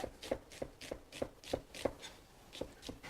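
A knife chops food on a cutting board in a run of about ten crisp, evenly spaced strokes, close and clear, with a short pause near the end.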